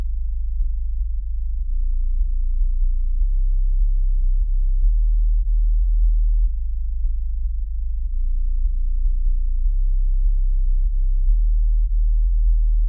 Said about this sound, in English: And then I added this low end with the sub bass